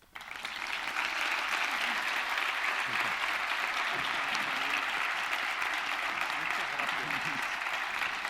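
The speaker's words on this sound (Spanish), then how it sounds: "para él pido un caluroso aplauso" Sustained warm applause from an audience at a book launch about the hermitages of Our Lady of El Rocío, starting abruptly and holding steady at full strength throughout, dense clapping filling the room.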